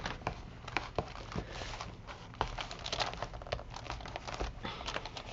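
A card is pushed into a recycled paper window envelope, giving continuous close crinkling and rustling of paper with scattered sharper taps and scrapes throughout.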